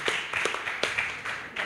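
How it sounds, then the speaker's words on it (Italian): A brief, sparse round of clapping from a small audience at an astronomy talk, honoring a young girl named Maria; a handful of scattered claps sound fairly close and modest in volume. "un applauso a Maria"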